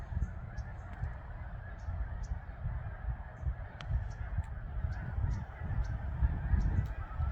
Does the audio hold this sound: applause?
no